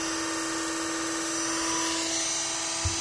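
A portable rechargeable USB hand mixer blender with a 300 ml chopper cup, 20 W, runs steadily at its third speed, giving a continuous high-pitched motor whine with a strong steady tone, close and alone.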